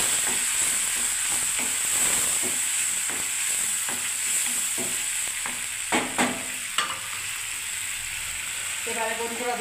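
Tomato paste sizzles in a hot frying pan under a constant hiss while a spoon scrapes and stirs in irregular strokes, and a voice speaks briefly at the end.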